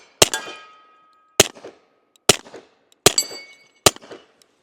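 Five sharp suppressed shots from a Nighthawk Custom Colt M45A1 .45 pistol fitted with an Osprey 45 Gen 2 suppressor, each a loud close crack with a short ringing tail, spaced roughly a second apart.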